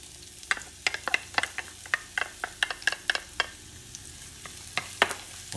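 Onions and sweet pepper fry quietly in a pan, with a string of sharp clicks and scrapes as a utensil moves them around, close up and without speech.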